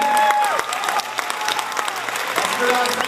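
A crowd at the Femmes du coeur 2012 Unis-Cité event claps steadily for about three seconds, with crisp hand claps close by, under some talking and a faint tonal background.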